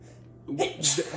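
A single short, close sneeze bursts out of a quiet room, quick and sharp, with no other sound around it.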